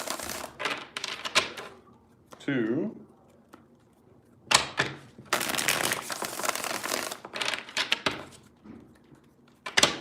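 Tarot cards being shuffled by hand in quick riffling bursts, repeated several times close by, with a voice talking in between and over the shuffles.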